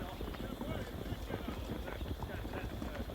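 Horses gallop in an Age of Empires 4 medieval battle, their hooves drumming in a dense, continuous clip-clop at moderate volume, with voices talking over the battle noise.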